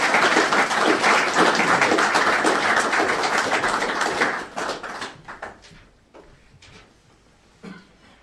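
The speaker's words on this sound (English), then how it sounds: "I'd just like to ask for a further round of applause for a tremendous presentation" Audience applause after a talk on planning Africa's cities, a loud sustained clapping that thins out after about five seconds into a few scattered claps and quiet room noise.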